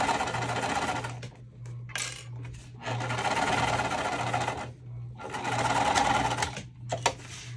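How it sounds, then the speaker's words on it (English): A sewing machine fitted with a Teflon presser foot stitches waterproof canvas for a pool tote, running in several close, loud bursts separated by short pauses, with no talking. "you'll see the difference sewing with this Teflon foot really makes for my machine when I'm sewing waterproof canvas"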